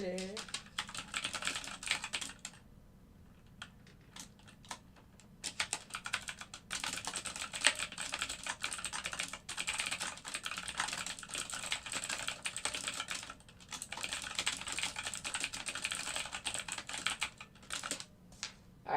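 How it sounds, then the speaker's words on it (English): Rapid bursts of typing on a computer keyboard during live algorithmic trading, clattering keystrokes in quick runs with short pauses, close and clear, with a voice speaking now and then. "sorry for all the typing today"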